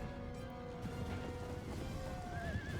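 Horses whinny in a Total War battle, a drawn-out neigh rising over a busy din of hooves, clashing and shouting from the fighting.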